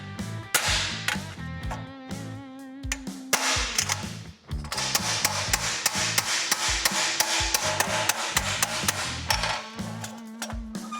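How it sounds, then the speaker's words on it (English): Sharp, loud metallic hammer strikes on 1972 Camaro body metal ring out in a rapid, steady rhythm as it is straightened, with a few brief pauses between bursts of blows. "we'll just hammer here and try to straighten this out first"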